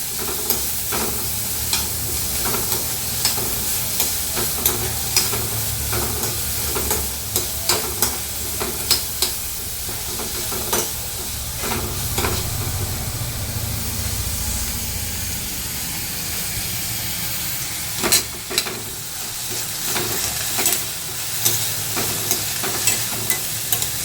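Vegetables for a thoran sauté in a pan with a continuous hiss and sizzle, punctuated by frequent stirring scrapes and clicks of a utensil against the pan.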